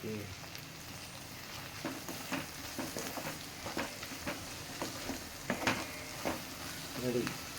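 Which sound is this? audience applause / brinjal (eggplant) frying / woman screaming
brinjal (eggplant) frying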